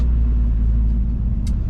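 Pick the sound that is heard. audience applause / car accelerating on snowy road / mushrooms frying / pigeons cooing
car accelerating on snowy road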